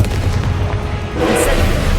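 Booming blasts of the Confringo explosive spell in Hogwarts Legacy, a dense rumbling barrage of impacts with a brighter crackling burst near the end, loud and continuous with no talk.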